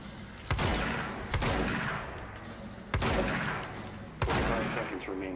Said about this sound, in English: Oh, I shoot him.